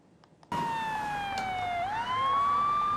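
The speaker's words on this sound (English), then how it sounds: "As police cars clear the roads, vaccines are being brought to the vaccination station." After a brief quiet moment, a police car siren starts up while clearing roads for a vaccine convoy, its loud wailing tone sliding slowly down and then sweeping back up, near and unbroken.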